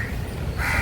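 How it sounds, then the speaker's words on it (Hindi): A crow caws once in a short, harsh call, fairly close and loud over a steady outdoor background hiss. "एक ये कौवा और दूसरा कौवा ये कंटिन्यूसली काँव काँव कर रहा है"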